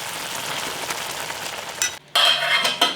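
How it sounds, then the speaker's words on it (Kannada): Vegetables with carrot and baby corn being stir-fried in a pan, a soft crackling sizzle with stirring scrapes, a brief pause and then louder sizzling bursts, close and without talk. "ಇನ್ನು ಅದಕ್ಕೆ ವೆಜಿಟೇಬಲ್ ಸ್ಟಿರ್ ಫ್ರೈ ಮಾಡ್ತಾ ಇದ್ದೀನಿ"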